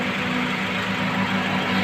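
A 2008 Honda Civic FD idles smoothly, a steady low hum with an even tone and no surges, heard close and alone without any talking.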